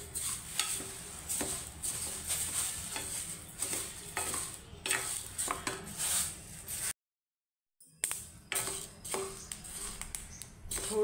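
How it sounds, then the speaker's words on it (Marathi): Pearl millet dry-roasts in a pan while a spoon stirs it, producing repeated scraping and rustling strokes at a close, moderate level, broken by a brief dead-silent gap before the stirring resumes. "बाजरी पण अशी व्यवस्थित भाजून घ्यायची।"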